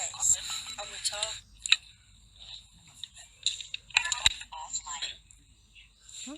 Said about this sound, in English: that was someone's phone.